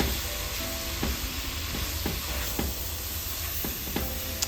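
Lamb is stirred back into sizzling onions, bell pepper and spices in a pot for coconut curry, a constant close frying hiss punctuated by regular spoon scrapes and taps about every half second.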